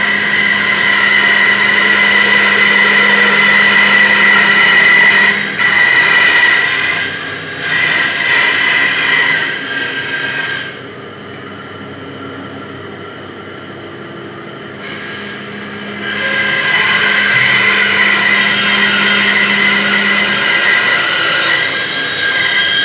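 A bandsaw runs steadily with a loud, continuous whine, and the blade load drops and returns midway as the cut is eased through and finished slowly near the end.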